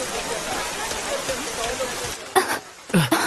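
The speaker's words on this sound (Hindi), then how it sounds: "हाँ, बारिश।" A steady hiss of rain falls continuously, with a couple of louder splashy bursts near the end and voices briefly audible.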